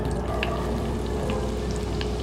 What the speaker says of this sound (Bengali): এর মধ্যে আমি এখন দিয়ে দেবো কিছু রসুন কুচি।